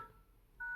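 Faint Nokia E72 keypad beep at the start, then a short, steady dual-tone dialing beep near the end over low background hiss.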